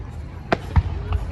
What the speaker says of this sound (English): He's shooting on fireworks and stuff,